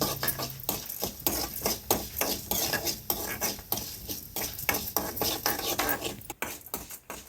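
Dried red chillies and urad dal frying in a pan for a quick South Indian kuzhambu, with a spoon scraping and clinking steadily against the metal in a busy rhythm over a constant close sizzle.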